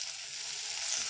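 Okra (bhindi) frying in a pan for a spicy bhindi masala, giving a steady bright sizzle with no talk, close and moderately loud through the short stretch.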